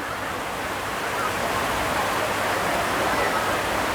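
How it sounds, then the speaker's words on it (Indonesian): Heavy rain pours down in an unbroken, dense roar of broadband hiss that holds level for several seconds, with no voices over it. "ini bakal lama ini hujan"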